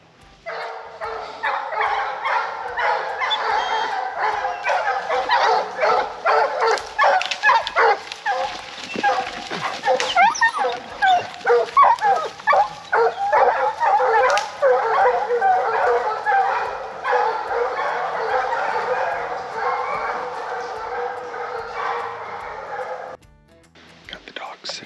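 Bear hounds bark and yip in rapid overlapping bursts on a trail during training season, close and loud, with some whimpers and faint low voices underneath.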